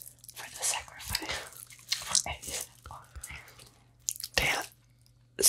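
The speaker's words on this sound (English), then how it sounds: "I'll chew on a few more for the sacrifice." Crunchy, crispy rice pops chewed close to the mic, bursts of crunching and biting that come and go, with soft whispering between bites.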